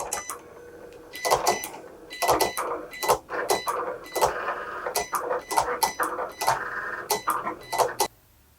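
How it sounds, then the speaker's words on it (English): Cricut cutting machine foiling a design on a mat, giving repeated short mechanical whirs and clicks in an uneven start-stop rhythm, fairly close and steady, with a faint voice in the background. "And now it will start foiling my design."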